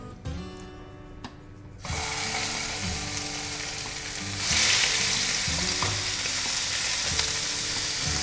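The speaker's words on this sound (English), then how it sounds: "So our pan is up to heat and we are going to add the steaks to the oil." Beef fillet steaks hit hot oil in a pan. A loud, crackling sizzle bursts in after a quiet start, then grows fuller and keeps spitting steadily, with faint clinks of cookware and no talking.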